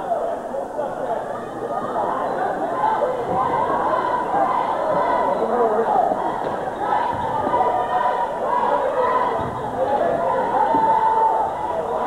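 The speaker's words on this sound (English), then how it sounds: "Another good crowd here in Ellenburg." Steady crowd chatter fills a high school boys' basketball gym in Ellenburg during a 1989 game, a continuous murmur of many voices with occasional faint laughs throughout.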